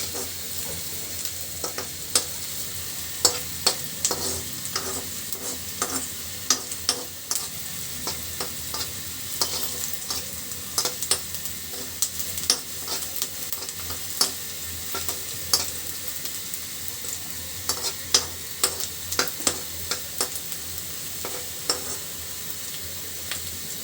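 Onion frying in a pan under a constant hissing sizzle, punctuated by many sharp spatula clicks and scrapes at an irregular rhythm, close and steady for the whole stretch, no voices.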